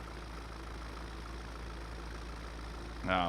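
A tractor engine in Farming Simulator drones at a steady low idle, a continuous rumbling hum, with a short rising mechanical sound at the very end.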